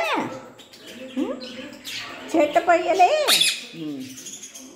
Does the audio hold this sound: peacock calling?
yes